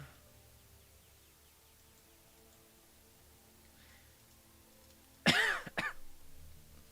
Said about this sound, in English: that was a cough, not a burp